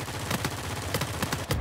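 Rapid machine gun bursts in Uncharted 4 multiplayer, a steady stream of sharp repeated shots running close and loud through the whole moment with no talking.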